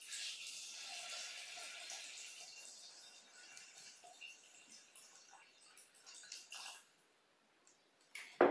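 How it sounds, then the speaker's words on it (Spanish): Water is poured into a Thermomix bowl for a lentil and rib stew, a steady soft splashing pour that thins out and fades near the end, quiet and close with no talk. "Ponemos el agua, que son 780 gramos de agua"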